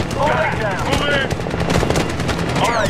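Machine gun covering fire rattles in rapid, sustained bursts in the Medal of Honor (2010) battlefield. It is loud and close, with shouting voices layered over the gunfire.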